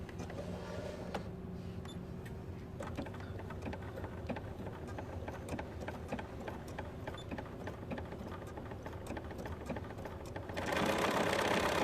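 A sewing machine stitches a gathered ruffle over two cords held in a channeled foot, running in a steady, continuous mechanical whir that gets a little louder near the end.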